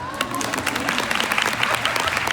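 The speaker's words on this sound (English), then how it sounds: "applause." Sustained applause from a crowd at a women's expo, dense overlapping claps filling the space at an even, moderate loudness.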